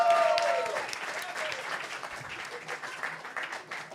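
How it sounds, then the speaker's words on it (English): Live comedy show audience giving a round of applause, a burst of clapping and cheering with a brief whoop at the start, gradually thinning out while a voice talks over it. "give Ryan a round of applause"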